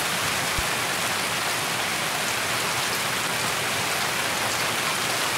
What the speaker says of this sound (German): Ich höre natürlich bei dem Regen jetzt viel zu wenig.